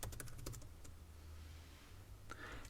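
Keys clatter on a computer keyboard while Python code is typed, a quick burst of close taps at first, then a pause and a few more keystrokes at the end, over a low steady hum.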